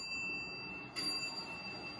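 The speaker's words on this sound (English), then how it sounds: "I love that chime." A Dover elevator arrival chime in a parking garage sounds once, a thin high ding over faint hum and room noise, fairly quiet.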